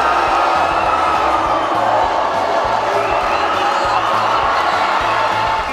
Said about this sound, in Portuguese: A torcida deu um show à parte, apoiando os atletas e mantendo os ginásios cheios durante toda a competição.